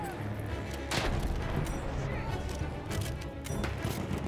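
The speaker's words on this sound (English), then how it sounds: "Throwing a grenade down there." A grenade blows up in the World War One shooter Battlefield 1 on the Cape Helles battlefield. Two sharp, loud blasts land about two and a half seconds apart over constant combat noise and a vocal murmur.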